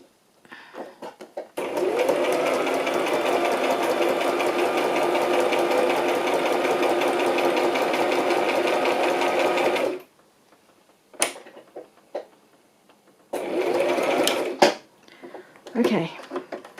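A home sewing machine stitches in one long, steady mechanical run of rapid needle chatter, then stops and resumes in a few shorter bursts separated by quiet pauses, heard up close.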